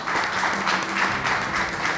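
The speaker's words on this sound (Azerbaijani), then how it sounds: "gəlin alqışlayaq" Audience applause at a hosted Azerbaijani stage program honoring a neurologist, steady dense clapping from a crowd that swells in gentle waves, moderately loud and unbroken.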